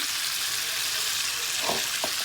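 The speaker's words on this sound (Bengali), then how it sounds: "আমি এখন এখানে পেঁয়াজ দিয়ে দেবো রসুন দিয়ে দিলাম" Steady, close hiss of onion and garlic frying in hot oil with panch phoron spice, a continuous sizzle with a couple of brief scraping stirs near the end.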